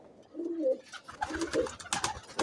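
A pigeon of a Teddy Golden Kamghar setup in Lahore coos low and near, two soft rolling coos, followed by brighter clattering and fluttering noises.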